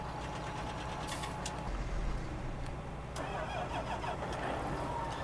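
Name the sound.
corn truck engine starting in a video game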